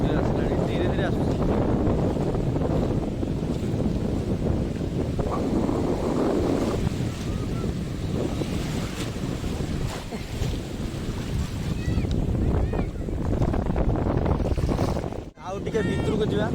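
Sea waves roll onto a beach in steady, loud surf mixed with heavy wind buffeting the microphone, a continuous washing roar with brief quieter dips, and a voice speaks faintly at times.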